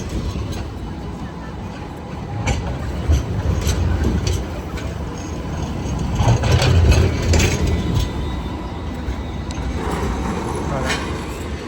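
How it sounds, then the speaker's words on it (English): Tram pulling away from Circular Quay station in Sydney, a steady low rumble with some swelling mid-clip, mixed with street and harbour-side ambience and nearby voices talking. "Let's wait for this tram to leave."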